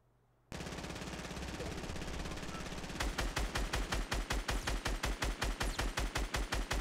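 Gunfire in the Fortnite video game: after a half-second of quiet, a steady rumbling bed gives way to a rapid, evenly spaced burst of loud automatic shots that carries on to the end without talk.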